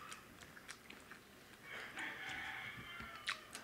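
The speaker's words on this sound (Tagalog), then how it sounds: "pasensyahan nyo na po yung tilaok ng manok" A rooster crows faintly in the distance, one drawn-out call rising over a low hiss of background room noise, with no voices heard.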